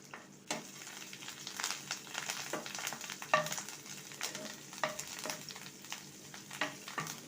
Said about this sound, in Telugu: పచ్చిమిర్చి చక్కగా వేగేంత వరకు ఇలా కలుపుకుంటూ లో ఫ్లేమ్లో వేయించుకోవాలండి